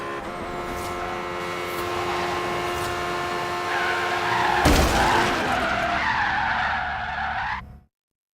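A McLaren P1 in Forza Horizon 3 drives with a steady high engine whine, then breaks into loud tire squeal and skidding that swoops in pitch before cutting off abruptly.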